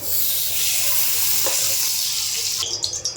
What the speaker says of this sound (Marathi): छान तापलेली आहे तर इथे मी घालते तूप